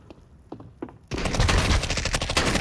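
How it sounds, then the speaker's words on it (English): A Mag 7 shotgun fires in Counter-Strike 2. A few faint clicks come first, then a sudden loud burst of rapid, overlapping gunfire fills the rest of the moment. "Marco with the Mag 7."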